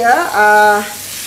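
Loud, close sizzling of beef dry-frying without oil in a hot wok with turmeric and coriander powder, a bright steady hiss that swells and then fades slightly.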